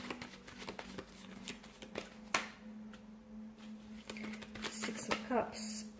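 Tarot cards are shuffled and flipped by hand, giving soft riffling and flicking sounds with a few sharper snaps under a person talking close by.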